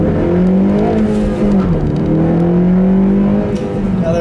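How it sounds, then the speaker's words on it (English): A 2014 Honda Civic Si Coupe with a 2.4-liter four-cylinder engine accelerates hard, its steady intake and engine drone climbing in pitch, dipping at a gear change, then rising again, heard from inside the car with no talking. "Another acceleration there."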